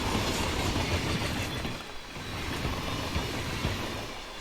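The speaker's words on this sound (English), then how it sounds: "We've got to get to the front of the train." A moving train in the Hitman III game rolls along with a dense, steady rumble and rapid rhythmic clatter of wheels, loud and continuous, heard alone without talk.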